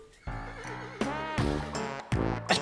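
A horse neighs and whinnies repeatedly in a trombone video game, several loud, close, wavering calls in quick succession with brief gaps, heard alone without talk.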